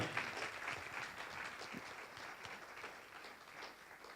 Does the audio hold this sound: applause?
yes